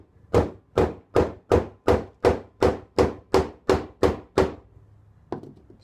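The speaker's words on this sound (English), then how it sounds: "Take a soft blow hammer." A soft-blow hammer taps a screwdriver blade set against a riser on the fuel pump retainer ring of a Jeep Wrangler TJ, about eleven evenly spaced, fairly loud knocks, then one softer final tap.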